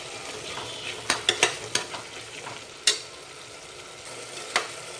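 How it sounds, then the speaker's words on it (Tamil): Mint and coriander leaves sauté with ginger garlic in a pan for chickpea biryani: a soft continuous sizzle broken by several sharp scraping clicks of a spoon stirring against the pan, close and fairly quiet. "புதினா மல்லியெல்லாம் போட்டு ரெண்டு நிமிஷம் நல்லா வணக்கி விட்டுட்டேன்"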